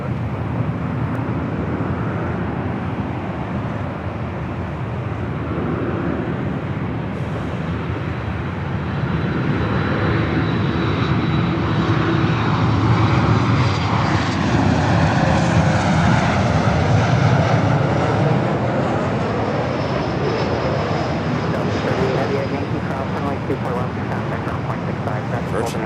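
A Virgin airliner rolls along the runway at LAX, its jet engines producing a loud, steady broadband roar that rises and swells midway, with a voice speaking over the noise.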